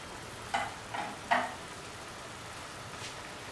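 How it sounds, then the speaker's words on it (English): A spoon stirs a cooking cucumber and coconut mixture in a pan, giving a few soft scraping strokes spaced apart over a faint steady background hiss. "While the mixture is cooking, stir."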